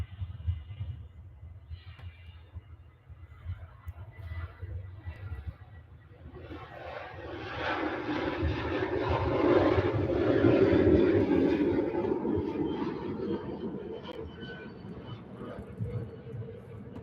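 A Boeing 737 at Manchester Airport, its engine noise swelling from a low rumble to a broad roar that peaks midway and then slowly fades, with faint wind noise.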